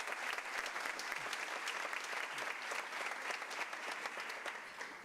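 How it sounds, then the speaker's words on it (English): Steady, dense applause from a large school assembly audience, loud and continuous for several seconds with no talking over it. "Yes, you should clap for that."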